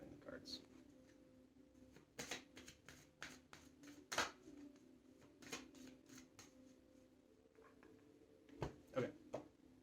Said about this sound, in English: so I've just been shuffling the cards.